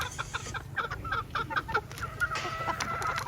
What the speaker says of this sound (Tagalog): At sa kabila yun ang aking mga inahin.